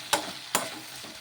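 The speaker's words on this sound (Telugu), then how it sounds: "ఇలా టమోటా పచ్చిమిర్చి మగ్గిన తర్వాత కొద్దిగా చింతపండు కూడా వేసుకొని ఒకసారి బాగా కలిపేసుకుందాము" Tomato and green chili cooked down with a little tamarind get stirred in a pan, two distinct scraping strokes of the spoon over a soft background sizzle, close and alone.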